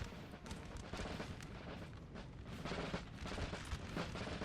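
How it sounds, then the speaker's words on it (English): Cannon fire from 6-pounder guns in a Napoleonic Total War 3 battle: repeated booming shots and rumbling volleys roll continuously, dense and distant, with no speech over them. "the 6-pounder is firing here"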